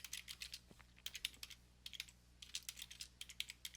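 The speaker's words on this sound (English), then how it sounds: "so I'm going to type that this" Fingers type steadily on a computer keyboard, quiet and close, with irregular bursts of key clicks separated by brief pauses and no talking.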